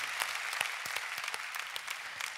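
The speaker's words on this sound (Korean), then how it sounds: "우리 한번 박수로 격려해 주시겠습니다." Congregation applauding during a Sunday church service, a steady wash of clapping with a few sharper individual claps standing out, moderately loud and alone without talk.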